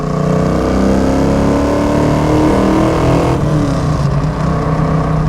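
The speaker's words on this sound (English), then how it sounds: "We'll do a little third gear pull, let you guys hear the exhaust some." A 1973 Dodge Challenger with a 340 V8 and five-speed exhaust roars loudly as it accelerates hard in third gear, a continuous deep rumbling drone from inside the car with no talking.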